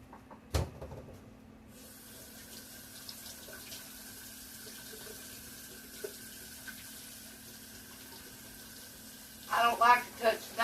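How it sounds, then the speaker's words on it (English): Hands are washed under a running kitchen tap during home cooking. A faint, steady stream of water hisses throughout, and louder splashing bursts come near the end. "Let me wash my hands."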